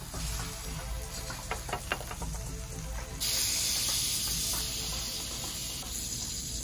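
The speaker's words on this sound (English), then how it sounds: "I'm gonna toast the bun now." A buttered hot dog bun toasting in a hot pan: a soft, steady sizzle that jumps to a louder, brighter hiss partway through and keeps crackling, close and continuous with no talk.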